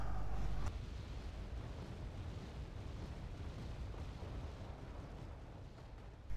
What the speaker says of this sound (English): So AS-90 is firing where the rocket launchers were.